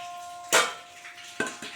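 Pieces of eggplant dropped into a cooking pan for a Tangra fish curry, giving two short metallic clatters over a faint, steady background.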